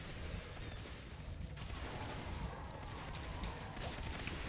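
Rapid rifle fire at an alien hive in the Natural Selection 2 shooter, a dense continuous rattle of shots with game noise throughout, steady and fairly loud with no clear talking.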